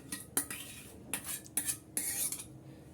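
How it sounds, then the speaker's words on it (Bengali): A spoon stirs mango puree in a pot for homemade mango ice cream, giving close, repeated scraping and clinking strokes against the pot with no talk. "আমের পিউরি আমি এখানে দিয়ে দিচ্ছি আর অনবরত নেড়ে চেড়ে আমি ভালো করে মিক্স করে নিচ্ছি"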